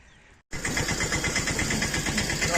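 A tractor engine kicks into life after a short silence and runs steadily with a loud, throbbing mid-pitched chug, close to the listener, ahead of a trip along a national highway.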